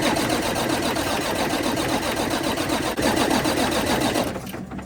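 Truck engine cranking after starting ether is sprayed into the intake with the air filter removed, a continuous fast rhythmic chugging, loud and close, that cuts off near the end.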